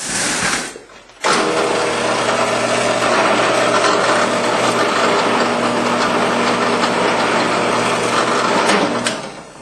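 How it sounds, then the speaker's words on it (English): A power drill with a 3.7 mm bit drilling rivet holes in Kydex sheet, running steadily for several seconds after a brief start, a loud continuous motor whine with a buzzing edge, then stopping. "now I'm going to drill those"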